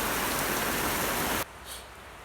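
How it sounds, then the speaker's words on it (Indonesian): Heavy rain pours steadily outside during a stormy, overcast spell, a dense broadband hiss that cuts off abruptly partway through, leaving a quieter room tone. "di luar tuh hujan teman-teman ya, deras tuh"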